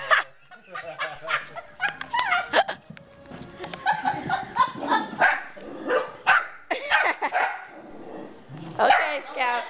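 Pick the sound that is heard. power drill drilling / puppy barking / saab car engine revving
puppy barking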